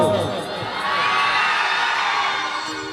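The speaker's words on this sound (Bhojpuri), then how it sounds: "एक बेर हल्ले कऽ दियौ ना अहाँ सब" A crowd at a Durga Puja gathering cheers and shouts together, a loud sustained roar of mixed voices with children's high yells, close and continuous for a few seconds.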